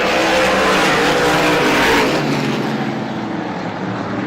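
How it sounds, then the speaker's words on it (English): Race cars at Star Speedway scream past in a loud, dense roar of engines during a close heat race, with a hint of tire scrubbing, then the pack noise slowly recedes a little. "Good side-by-side racing further back in the pack."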